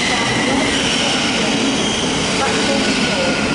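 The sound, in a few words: Thameslink train arriving at Mill Hill Broadway station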